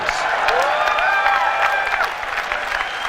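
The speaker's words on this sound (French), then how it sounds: "les gens qui applaudissent, c'est très intéressant, ce sont des journalistes" Journalists applauding at an Apple product keynote, a dense, steady burst of clapping filling the hall for about three seconds before thinning slightly.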